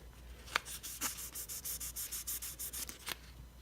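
Fine 7000 grit sandpaper rubbed by hand over a metal surface, a close, steady series of short scratchy strokes in a quick back-and-forth rhythm, with no voices.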